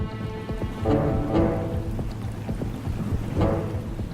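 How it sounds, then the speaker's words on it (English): Storm moving in over the Yellowstone wilderness, a steady wash of rain with low rumbling thunder rolling in several swells, loud and close, with no voices. "a storm blows in"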